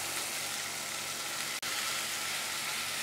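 Two medium onions frying in a pan for mutton liver curry, giving a steady, close hiss of sizzling oil that runs throughout with one brief dropout midway.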